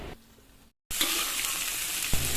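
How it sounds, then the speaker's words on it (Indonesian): Tempe sizzling in hot oil in a pan, after an earlier batch was left until burnt: a quieter hiss, a brief silence, then a loud, steady, close frying crackle that continues to the end. "Lagi goreng tempe ya teman-teman"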